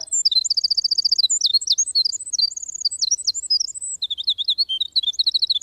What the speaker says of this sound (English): Tiny little song, tiny little bird with a big, big song.